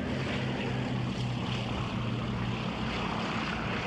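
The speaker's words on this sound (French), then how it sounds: "les avions de reconnaissance alliés quadrillent les régions côtières du nord de la France" Allied reconnaissance aircraft flying over the northern French coast give a steady propeller drone blended with a broad wash of surf-like noise, constant and fairly loud throughout with no speech.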